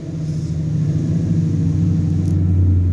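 A Ford Mustang S550 with a muffler delete gives a loud, deep exhaust rumble, holding a steady low idle that swells slightly toward the end.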